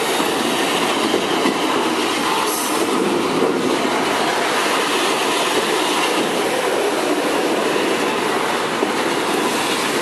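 An MRS Bracell freight train hauled by Rumo locomotives rolls past in a port area, its wagons making a loud, steady roar with rhythmic wheel clatter and occasional squeal, very close.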